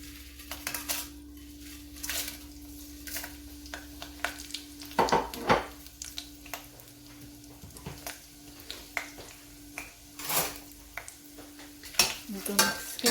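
Red chillies fry in oil in a pan while being stirred: quiet, soft sizzling with scattered scraping and clinking of the spoon against the pan, no voices.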